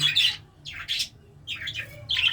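English budgerigars chirp and chatter in short bright bursts, three or four clusters of quick tweets close by, with quiet gaps between.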